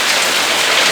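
Heavy rain mixed with hail pours down in São Paulo, a loud, dense, continuous hiss of drops hammering the surfaces close by.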